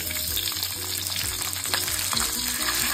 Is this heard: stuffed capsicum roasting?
yes